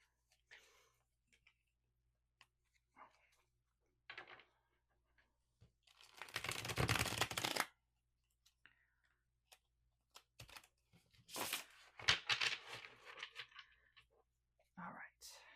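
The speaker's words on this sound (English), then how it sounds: "This is not my favorite deck to shuffle because there are so many extra cards." A tarot card deck with many extra cards being shuffled, heard as a few crisp riffling bursts with soft taps and rustles between them, close and fairly quiet, with faint low voice sounds.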